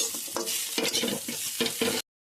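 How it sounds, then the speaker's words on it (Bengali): Potato and eggplant pieces fry in a pan with oil, a close sizzle broken by repeated scraping stirs in an uneven rhythm over about two seconds. "এখানে বেগুনও ছেড়ে দিচ্ছি। এগুলোকে কিন্তু ভালো করে ভেজে নিতে হবে।"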